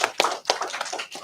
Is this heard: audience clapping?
yes